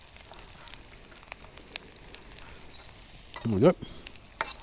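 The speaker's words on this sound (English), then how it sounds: "Kind of like a Mediterranean stir fry" Fish pieces fry with fresh parsley, basil and salt in a Mediterranean-style stir fry, a faint steady sizzle with light ticks, and someone briefly speaks near the end.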